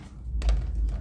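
A couple of short, hollow rattling knocks from loose parts shaken inside the plastic housing of an Arzum hair dryer, close by and fairly quiet.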